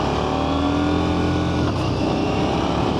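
A 2024 KTM 990 Duke motorcycle ridden in performance mode on a rough, gravelly paved road gives a steady, loud engine drone with wind and road noise, heard close and without talk.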